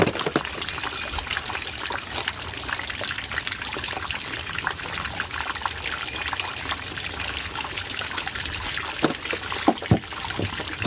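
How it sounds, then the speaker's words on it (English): Water trickles and pours steadily over microgreen seeds in a strainer as they are rinsed, a continuous close splashing with a few brief louder splashes near the end. "And then I just like to rinse them just a little bit."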